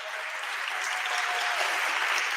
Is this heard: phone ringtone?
no